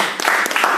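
A short burst of broadband applause from an audience honoring the production team of the Gujarati film Hellaro, steady and fairly loud across under a second.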